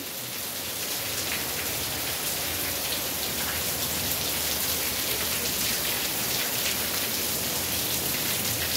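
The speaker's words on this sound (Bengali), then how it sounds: "চরম বৃষ্টি হচ্ছে, প্রচুর প্রচুর বৃষ্টি হচ্ছে।" Heavy rain pours steadily on an August day, a dense, unbroken hiss of drops hitting surfaces nearby. It stays loud and even throughout, with no voices.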